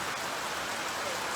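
Heavy rain pours steadily during flooding in Trinidad, a dense, even hiss of drops hammering surfaces close by, with no voices over it.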